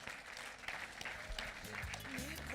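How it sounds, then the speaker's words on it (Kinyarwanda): Applause at a traditional Rwandan wedding, faint, steady clapping from a gathered crowd, with speech and other voices mixed through it. "mwari muri kwiriye amashyi menshi cyane"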